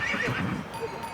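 Horses on a Himalayan trek to Phugtal neigh, a high whinny up close, with clip-clopping hooves mixed in over a brief moment.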